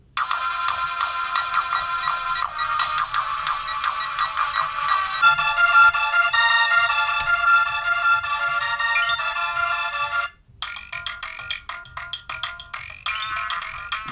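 Super NES game music plays through the small built-in speaker of a cheap handheld clone console: bright, busy electronic melodies and bleeps run continuously, with a brief cut near the end before resuming.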